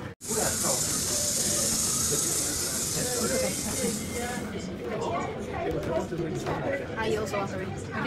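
An old steam train exhibit in a Danish museum lets out a strong, continuous steam hiss for about four seconds, then cuts off. Faint mechanical ticking and clanking follow, with people talking nearby.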